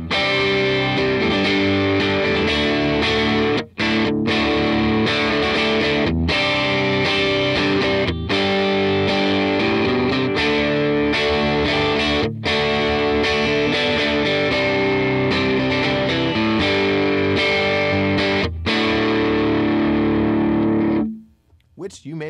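Electric guitar through a Keeley compressor pedal, chords ringing with squashed, evened-out dynamics and a slightly gritty tone, playing steadily for about twenty seconds.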